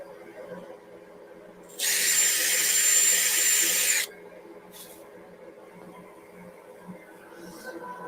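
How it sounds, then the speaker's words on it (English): A single burst of high-pitched drilling lasting about two seconds, loud and close, over a quiet room hum, then stopping. "So I have to use a hand drill."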